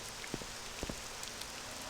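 Rain falling in the video game Morrowind, a faint steady patter with a few soft drips landing alone, no voices over it.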